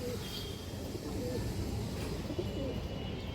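Pigeons coo softly at a farm loft, a low continuous murmur of several birds with faint background noise and a voice talking intermittently over them.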